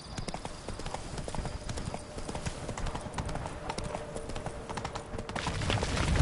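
Roach the horse gallops in The Witcher 3: Blood and Wine, with rapid, steady hoofbeats close by and swelling slightly toward the end.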